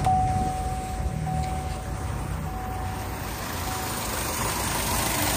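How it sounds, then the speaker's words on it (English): A Chevy Cruze engine with a P0106 code and a suspected valve cover or PCV valve fault idles steadily, shaking noticeably, a low continuous rumble heard up close with no talk over it. "I'm gonna keep the car running."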